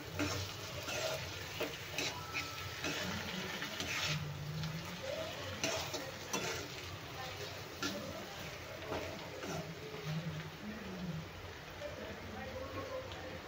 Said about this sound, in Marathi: अर्धा चमचा हळद. आता हे परतून घेऊया. परत टोमॅटो आणि हळद मिक्स करूया.